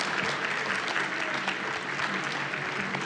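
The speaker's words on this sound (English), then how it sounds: "Claps for Zenthrow." A crowd applauds at a live speedrunning charity marathon event, dense steady clapping that holds evenly throughout, loud and close with no pauses.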